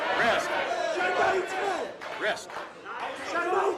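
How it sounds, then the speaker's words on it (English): A loud crowd cheers and shouts continuously at an arm-wrestling match, a dense wall of overlapping voices with rising yells throughout. "the crowd is cheering Ermes."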